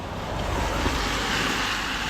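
A monsoon-flooded river in Konkan, swollen with red muddy water and breaking its banks into fields, roars in a dense, unbroken rush with no voices.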